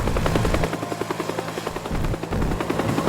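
Helicopter in the video game Teardown, a steady loud rotor drone with rhythmic blade chop throughout, alone without talk.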